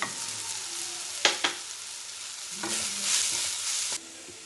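Onion, ginger-garlic paste and masala powder frying and being stirred in a pan at a roadside stall making Kaalan chilli: steady soft sizzle with a few sharp spatula scrapes and knocks, fairly close, no talking.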